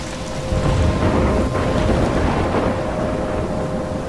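A loud thunderstorm in the video game Life is Strange, with a deep continuous rumble of thunder over steady heavy rain that swells after a quieter opening and then holds.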